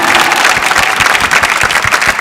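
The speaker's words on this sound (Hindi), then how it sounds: "जोरदार तालियां." Audience applause at a dance show grand finale, a dense burst of many hands clapping, loud and continuous with a few sharper individual claps standing out through the short stretch.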